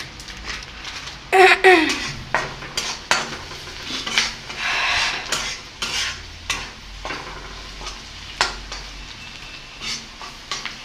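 Spatula scraping and clanking against a pan as spiced food is stir-fried, with sizzling swells and intermittent metallic knocks, fairly close and loud.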